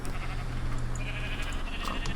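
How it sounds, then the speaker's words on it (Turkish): Sheep bleating in the video game Hexxit, with brief wavering bleats over a loud, dense background of game noise. "Aa koyunlar tamam."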